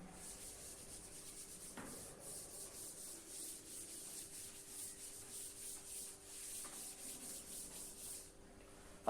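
Soft, rhythmic rubbing strokes wipe writing off a classroom board in a quiet room, repeating steadily for several seconds without voices.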